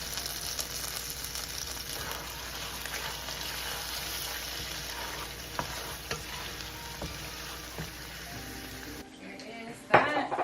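Sweet soy sauce and vegan oyster sauce sizzle steadily in a hot pan for a lasting stretch, with soft stirring scrapes, before the frying cuts off near the end and a few clunks of cookware follow.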